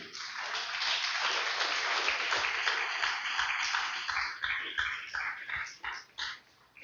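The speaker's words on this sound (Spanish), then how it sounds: "Déselo fuerte el aplauso, aleluya." Applause from a church congregation during a Spanish-language sermon, steady dense clapping at first that thins into separate claps and fades out near the end.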